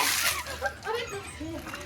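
Water splashing during Holi water-balloon play in a village, loud wet splatters close by mixed with excited voices of children and adults talking over it.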